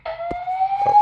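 Building fire alarm sounding indoors, a loud continuous tonal wail with a steady rising pitch, cut briefly by a couple of short thumps, heard close and alone without talk.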